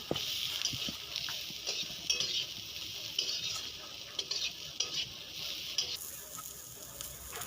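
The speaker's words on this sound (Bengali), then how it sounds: "1 থেকে 2 মিনিটের মতো মিডিয়াম ফ্লেমে ভালো করে নাড়াচাড়া করে নেব" Pasta fries on a medium flame with turmeric and other spices while it is stirred, giving a soft continuous sizzle under light scraping and clinks of a utensil against the pan, fairly quiet and without speech.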